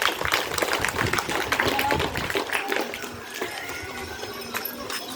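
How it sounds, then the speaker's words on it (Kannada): Loud, dense clapping from a school audience applauding a student's book presentation at a reading campaign event, a steady crowd roar of claps that fades slightly toward the end. "ವೆರಿ ಗುಡ್, ಜೋರಾದ ಚಪ್ಪಾಳೆ"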